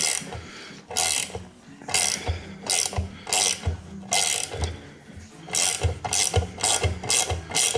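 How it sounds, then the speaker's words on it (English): A hand ratchet clicks in quick bursts while undoing cylinder head nuts on a Classic Mini 1100 engine, a close, repeated rapid pawl chatter with short pauses between strokes. "So I'll just take these nuts off now."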